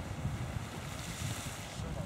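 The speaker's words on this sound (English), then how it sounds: "Is that a geyser? Yeah, it's water shooting up." A Yellowstone geyser erupts in a constant rushing hiss of water and steam shooting upward, a steady broadband roar heard from a distance, with wind noise and faint voices in the background.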